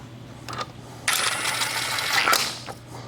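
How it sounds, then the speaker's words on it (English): A hand wrench ratchets briefly in a burst of metallic clicking while snugging wheel lug nuts on a car, preceded by a few faint taps, fairly close with no talk. "So just go until it just snugs it right up, gets one little click, then we'll go back and torque the wheels."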